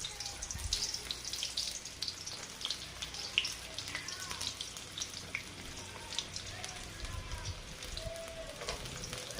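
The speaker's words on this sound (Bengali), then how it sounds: "তেল গরম হয়ে গেছে, পেঁয়াজ কুচি," Chopped onions frying in hot oil, a steady, fairly quiet sizzle dotted with small crackles and pops from start to finish.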